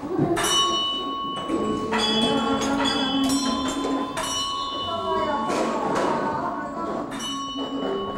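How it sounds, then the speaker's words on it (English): A metal bell rings repeatedly on a great prayer wheel at a Tibetan monastery in exile, clear struck tones with long ringing overtones recurring every second or so, under a low background rumble and a speaking voice. "With each ringing of the bell, the great prayer wheel sends countless blessings throughout the universe."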